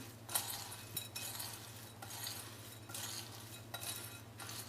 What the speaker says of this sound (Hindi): ये तमाम चीज़ें जो हमने फ्राई करी थी वो डाल ली हैं और उसके साथ इसे मसाले को अच्छी तरह से मिक्स कर लूँगी